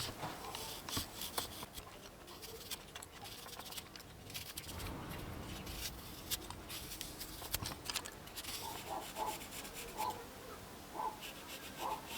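Balsa wood on a handmade crucian carp fishing float is sanded down to remove excess material, producing a steady close-up dry rasping and rubbing that runs continuously with small scraping strokes.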